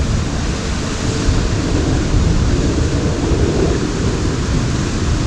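A waterfall at a pond in Fort Worth pours in a steady, loud, broadband rush of flowing water, close by and unbroken throughout, with no voices over it.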